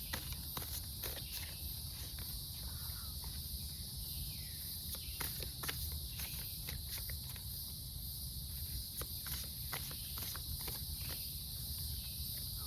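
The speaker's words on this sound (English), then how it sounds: "I guess they're cicadas." Cicadas chirp in a wood, producing a steady high-pitched buzzing drone throughout, with soft footsteps and rustling crunching nearby.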